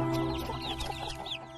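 Chicks cluck and cheep in an Upin Ipin cartoon scene, a busy chorus of fowl sounds layered with a steady tonal hum, close and continuous throughout.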